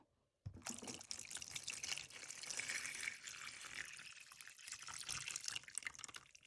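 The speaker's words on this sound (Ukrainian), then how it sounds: "Розчинилася і заливаю." Brine is poured from a container over a whole head of cabbage in a vessel for fermenting, making a close, continuous splashing gush that runs steadily for several seconds without any talk.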